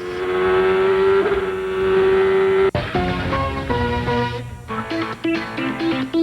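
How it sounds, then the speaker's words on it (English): Racing karts at a kart race in Japan whine steadily at high revs, then shift into a busier mix of several engines changing pitch as they pass, loud and without talk. "Check out the kart race in Japan."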